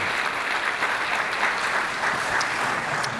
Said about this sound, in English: Robert, if you could please stand, and we can all applaud his most excellent investment.